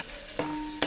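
Mango pieces and onion in a fish curry get stirred in a pan, a soft sizzle running throughout with scraping stir strokes near the middle and end, close and fairly quiet.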